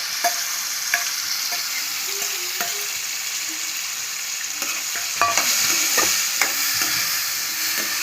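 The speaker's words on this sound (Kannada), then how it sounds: "ತುಪ್ಪದಲ್ಲಿ ದ್ರಾಕ್ಷಿ, ಗೋಡಂಬಿ ಮತ್ತು ಮ್ಯಾಂಗೋನ ಹುರ್ಕೊಳ್ಬೇಕು." Grapes, cashews and mango fry in ghee for a mango payasam, a soft, even sizzle with frequent light ladle taps and scrapes against the pan, close by and without talk.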